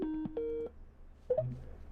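Telephone tones on a TV call-in painting show: a few short electronic beeps, then a brief warbling ring on the line, clear and close with no one talking.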